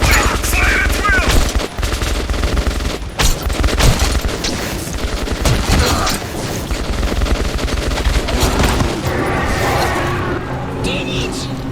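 Gunfire in Metro 2033 Redux, with loud, near bursts of automatic shots and single cracks firing repeatedly amid booms, as voices shout between the volleys.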